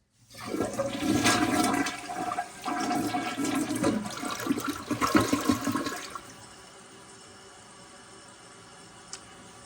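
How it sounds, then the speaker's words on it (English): A household toilet flushing right after its tank parts were replaced: a loud, full rush of swirling water for about six seconds, then a quieter, steady hiss of the tank refilling. "and then give it a flush"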